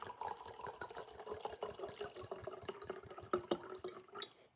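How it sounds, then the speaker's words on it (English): Wine glugs and trickles into a glass from close by in a quick run of irregular liquid splashes over a few seconds, with no speech. "I'm going to go ahead and pour a little bit."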